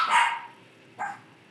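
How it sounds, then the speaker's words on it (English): Two sharp dog barks sound indoors, a louder one at the start and a shorter one about a second later, with quiet in between. "My dogs are going crazy."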